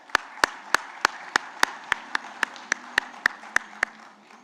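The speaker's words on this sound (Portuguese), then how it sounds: "uma salva de palmas" About fourteen sharp, evenly spaced claps ring out in a steady rhythm over a low hum, greeting a Datagro director being called onto the stage at a panel event.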